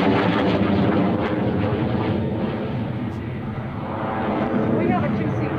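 A two-seat MiG-17 jet with afterburner roars loud and steady overhead at the 2004 NAS Oceana airshow, a broad continuous blast that swells and eases while an announcer talks over it.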